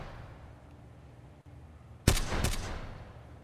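Gunfire in a military video game during a bridge reconnaissance operation: after a quiet stretch, a sudden loud burst of two or three close shots with ringing tails.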